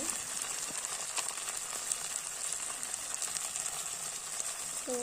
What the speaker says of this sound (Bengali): মাংসটা ভেজে নেব টমেটো আদা মশলাগুলো একসাথে ভেজে নিয়ে যাবো